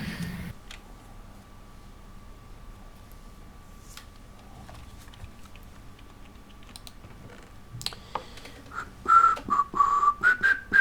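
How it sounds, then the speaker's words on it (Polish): Whistling from a player during a Minecraft role-play session, a short wavering tune that rises near the end over quiet keyboard typing and soft clicks in the background. "No tak nie gwizdaj"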